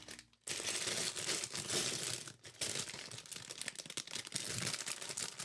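A plastic Lego parts bag is torn open and crinkled close by, a loud crackling rustle that pauses briefly before more handling of the plastic.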